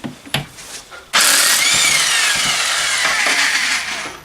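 A power tool, probably an impact wrench, is used to rattle a part off a Harley Davidson golf cart motor. A few clanks come first, then the tool kicks in hard and runs as a loud, close, sustained whir for about three seconds.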